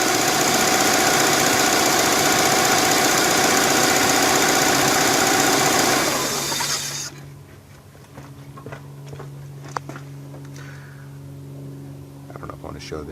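The EJ25 engine of a 1998 Subaru Legacy GT running with an MSD ignition produces a loud, steady, close-up drone for about six seconds, then cuts off, leaving only faint ticks and knocks.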